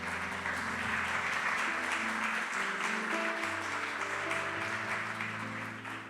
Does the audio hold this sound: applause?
yes